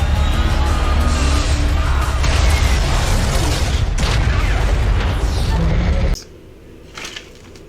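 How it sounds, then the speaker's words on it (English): The ark explodes on the planet Lamentis-1 in Loki episode 3, a loud, sustained rumbling blast with crashing debris that cuts off abruptly into quiet. "as soon as they get close enough to the ark, it explodes."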